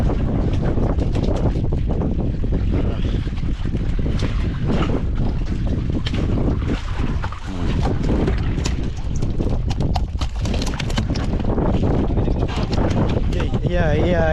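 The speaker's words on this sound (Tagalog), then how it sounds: "parang lalakas na yung hangin ah" Strong, steady wind roars across the microphone with rushing water and boat noise, loud throughout, with voices talking now and then beneath it.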